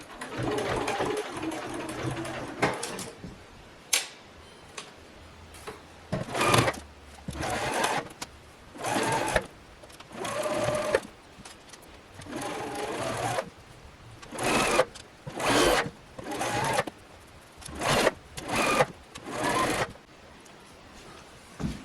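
A sewing machine stitches through flannel while refashioning a thrifted shirt, running in repeated short bursts of rapid needle chatter with brief pauses between runs, close and fairly loud.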